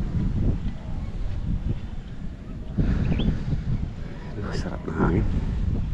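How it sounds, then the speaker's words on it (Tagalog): Gusty wind buffets the microphone in low rumbling bursts, with a few faint voices underneath. "Sarap ng hangin."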